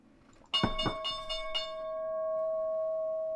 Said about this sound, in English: So I got 2 bells going off.